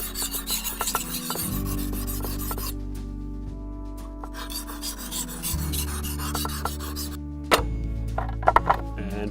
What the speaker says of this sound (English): I'm gonna put oil on just like I did the first one, rub that around, and just repeat the same process all over again, keeping that same angle